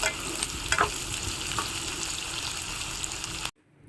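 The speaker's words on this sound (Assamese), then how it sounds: "অলপ টাইম ভাজিব লাগিব পিঁয়াজটো ৰঙচুৱা হোৱালৈকে।" Onions sizzling in a pan and being stirred for an Assamese goat meat curry: a dense, close, continuous frying hiss with faint scraping, stopping suddenly before the end.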